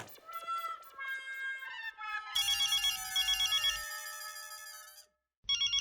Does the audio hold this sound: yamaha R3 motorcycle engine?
no